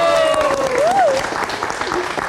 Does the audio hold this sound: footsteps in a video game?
no